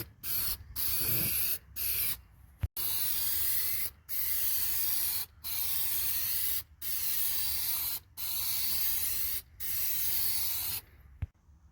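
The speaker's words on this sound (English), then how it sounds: "Everything looks better with a can of cheap black spray paint, especially wheels." Cheap black spray paint hissing from an aerosol can onto a bus wheel, in about eight steady bursts of a second or so each, separated by short pauses, close up and loud.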